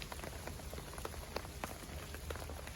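Rain pattering on a fishing bivvy at an estate lake, dense irregular ticks and taps over a constant soft hiss, close and steady with no talk.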